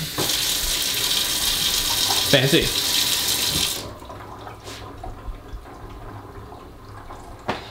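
Water runs loudly from a newly installed kitchen sink faucet for about four seconds, then cuts off, leaving faint room noise and a brief word spoken.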